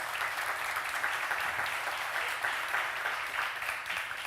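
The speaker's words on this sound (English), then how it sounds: "They've already clapped for you, so that's good." A church congregation at a Sunday service claps steadily for several seconds. The applause is moderately loud and even, with no speech over it.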